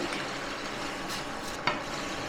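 A yogurt mixture for green-banana kachkola kofta stirred in a pan over very low heat, a steady close scraping and soft sizzling wash with one small knock of the spoon, no voices.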